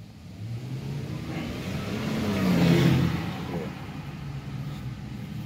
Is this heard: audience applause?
no